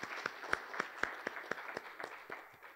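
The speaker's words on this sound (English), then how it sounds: "A big round of applause for the Sohar members" Members at a business event on Oman withholding tax give a round of applause: a modest, fairly quiet scattering of claps with a few distinct sharp hits in an uneven rhythm, heard from some distance.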